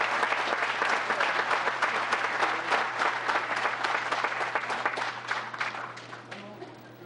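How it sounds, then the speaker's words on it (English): A town council meeting audience gives a sustained round of applause for town employees, dense clapping that holds strong for several seconds before tapering off near the end. "a round of applause to Heather and Leah and our town employees for the wonderful work for our community"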